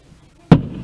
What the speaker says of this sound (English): Fireworks. Here comes some more.